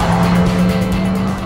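A 2017 Hyundai Kona 1.6 turbo with four-wheel drive accelerates hard on a test drive, its engine drone holding a steady loud tone close to the cabin mic with no talking.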